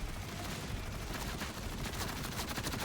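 Rapid gunfire from Jakobs weapons in Borderlands 4 rattles loud and continuous, with dense overlapping shots that build toward the end.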